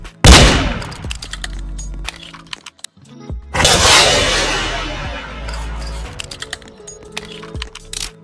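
Gunfire in the Roblox game Murder Mystery 2: two loud sharp bursts, the second with a longer crackling tail, followed by scattered light clicks and taps.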